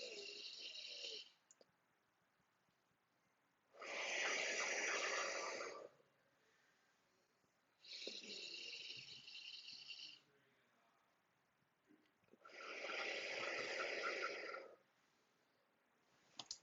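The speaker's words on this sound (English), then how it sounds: "So we're going to inhale through our nose." Deep box breathing done slowly: four long, loud breaths, each lasting about two seconds, with nose inhales alternating with exhales and quiet pauses between them, close up and alone.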